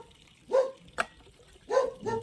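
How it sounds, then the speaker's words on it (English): A dog barks indoors during a meeting talk, three or four short, fairly close woofs in an irregular sequence, with no one speaking over them. "No, that's my dog. He'll stop in a moment."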